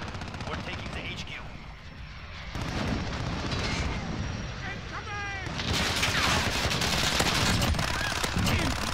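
Gunfire in Modern Warfare during a hardcore Demolition match: dense, continuous bursts of shots and blasts layered with game sound effects, loud and close throughout.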